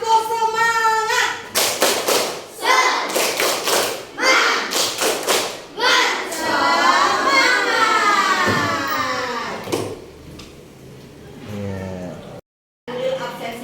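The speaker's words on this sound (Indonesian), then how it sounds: "Kita tepuk semangat dulu ya." A classroom of children performs a rhythmic spirit clap, loud bursts of synchronized claps in patterned groups mixed with children's chanting voices, followed by a teacher's speech and the class answering.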